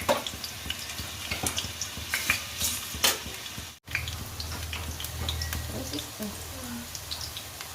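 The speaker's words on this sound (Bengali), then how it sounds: "মেটেগুলো একটু ভেজে নেবো" Chicken liver frying in a hot pan, a continuous sizzle with stirring and utensil scrapes, a brief pause midway, then a lower, denser frying rumble.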